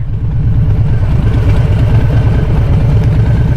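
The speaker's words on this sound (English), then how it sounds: "I'm just hanging out on my bike, on my loud, fast bike." 2019 Harley-Davidson Street Bob cruiser motorcycle running at low speed: a loud, deep, steady engine rumble with an even pulsing throb, close up and without talk.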